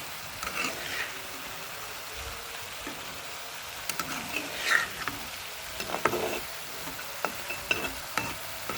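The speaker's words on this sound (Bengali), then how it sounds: "আমার ভাজি রান্না করা প্রায় শেষ।" Vegetable bhaji of beans, carrot and potato being stir-fried in a pan, with a soft continuous sizzle and irregular scraping stirs and clinks close by, no talking.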